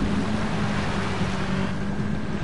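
A submarine in GTA V moves through water with a steady, dense rumbling wash of engine and water noise, close and unbroken.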